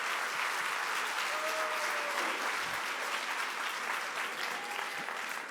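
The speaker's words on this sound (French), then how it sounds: "Je pense qu'il faudrait aussi et surtout applaudir Bernard, qui l'a fondée" An audience at an association's presentation event claps in a sustained round of applause, even and fairly distant, with no one speaking over it.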